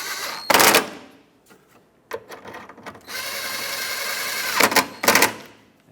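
Short bursts of a power tool snugging the two mounting bolts on an A/C condenser of a Chevrolet Express 3500 van, close and loud, with a longer steady whir in the middle and brief clanks between.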